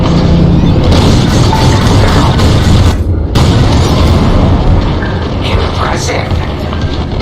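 Bomb explosions from a starfighter raid in Star Wars Squadrons, a dense continuous rumble of booms and blasts with a brief gap near the middle, loud and sustained, with voices speaking over it.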